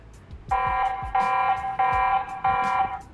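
TP-Link Tapo C200 pan/tilt home security camera sounding its alarm: four loud, evenly spaced electronic beeps in quick succession, each a short bright buzzing tone.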